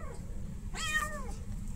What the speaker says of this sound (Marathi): मांजर काय शांत बसत नाही वाटत आज